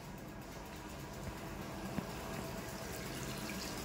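Water is poured out for a farm animal to drink, a steady splashing, gurgling flow heard alone throughout.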